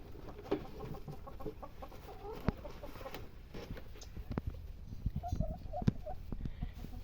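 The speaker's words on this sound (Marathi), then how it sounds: "हे पहा, इथे कोंबडी बसलेली आहे" Hen sitting on a clutch of eggs on a goat and poultry farm, giving soft intermittent clucks and short calls, faint and close against a low background with occasional knocks.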